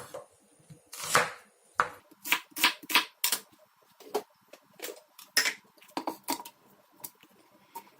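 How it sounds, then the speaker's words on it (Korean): A knife slicing through half an onion on a cutting board, irregular crisp chops in quick succession, close and clear with no talking. "김치에 넣을 양파 반을 슬라이스해 따로 준비해줍니다."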